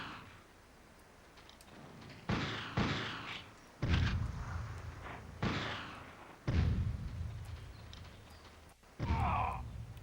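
Grenade explosions in the PlayStation game Army Men: Land Sea Air, five heavy booming blasts spaced unevenly through the clip, each with a loud onset and a decaying rumble over steady game background noise.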